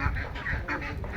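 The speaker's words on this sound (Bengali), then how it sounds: "এটা নতুন জাতের বেলজিয়াম হাঁস।" Belgian hybrid ducks, about a month and a half old and heavy for their age, quack and call in a steady, busy stretch at close range, overlapping one another without a clear break.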